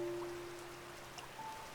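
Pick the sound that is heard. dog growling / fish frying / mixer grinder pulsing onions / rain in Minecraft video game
rain in Minecraft video game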